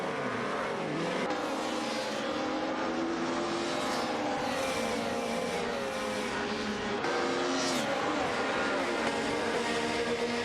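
Race cars in a racing video game, including BMW M3 GTR Evos and a Mercedes DTM car, roar continuously with engines revving up and down through gear changes, dense and loud throughout.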